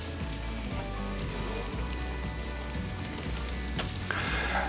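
Spices frying in oil in a pan give off a steady, dense sizzle with light crackling, close up and continuous throughout.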